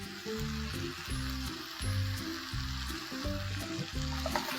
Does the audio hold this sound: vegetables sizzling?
yes